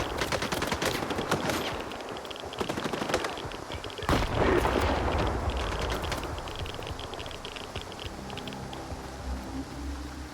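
Gunfire in S.T.A.L.K.E.R. 2: Heart of Chornobyl, with dense rapid shots in the first four seconds, a louder burst near four seconds, then a fading rumbling tail, loud and close throughout.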